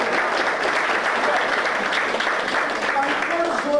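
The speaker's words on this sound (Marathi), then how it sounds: "जोरदार टाळ्या मॅडमसाठी." Steady, loud applause from a room of participants at a business growth session, clapping honoring a woman participant, dense and continuous from start to finish.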